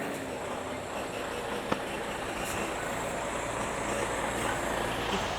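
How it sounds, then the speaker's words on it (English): A big tarped truck pulls up outside a shop to deliver a new machine, its engine a steady, fairly loud rumble throughout with one brief clank partway through. "Got a truck."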